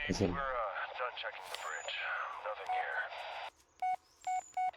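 A run of electronic telephone dial tones beeps near the end, short evenly spaced tones after a stretch of synthetic, warbling sounds in the video game Blair Witch.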